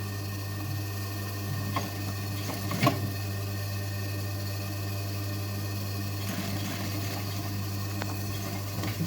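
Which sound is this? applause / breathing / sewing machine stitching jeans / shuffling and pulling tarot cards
sewing machine stitching jeans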